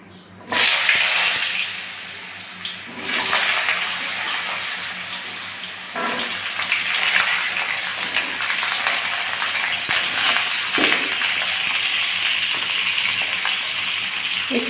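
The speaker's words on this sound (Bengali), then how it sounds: "আলুগুলো লাল করে ভেজে নেব।" Potatoes frying in hot oil seasoned with bay leaf, cardamom and cinnamon for katla fish dopiyaji, a steady close sizzle that runs unbroken for the whole stretch with no voices.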